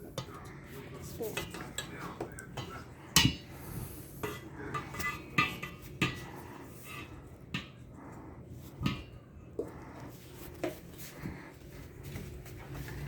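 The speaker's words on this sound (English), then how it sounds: "Make sure to scrape around the bowl to get every little bit of cookie dough out." A spoon scrapes cookie dough around a mixing bowl in a home kitchen, making uneven clinks and scrapes in short bursts at close range, with faint background voices.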